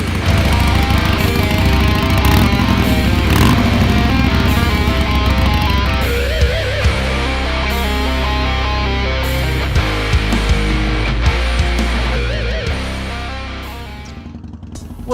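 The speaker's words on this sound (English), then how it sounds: "Just letting the bike warm up for a tick, and we're gonna head to work." A motorcycle engine idles loud and close while warming up on a morning, holding a steady rumbling drone that eases off slightly near the end, with no talking.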